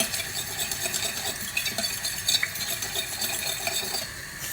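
Cheese being stirred into a peppery cacio e pepe sauce in a pan, with a steady soft scraping and wet mixing texture that continues evenly throughout, close by and moderately loud, with no talking.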